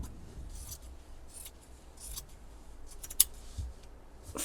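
Scissors snip through doubled journal cover material in a quiet craft setting, several short soft cutting strokes with faint rubbing between them and one crisp click.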